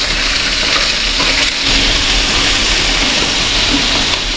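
Bangus (milkfish) sizzles and spatters in hot oil in a pan, with a loud, continuous crackling fry and small pops, heard up close and without talk.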